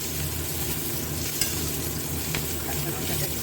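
Hilsa fish frying in a pan with green chilies nearby, a steady close sizzle with faint stirring scrapes and a couple of small pops.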